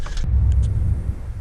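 Jeep XJ engine cranking without starting, a loud low rumbling churn heard close up and alone, with no speech over it.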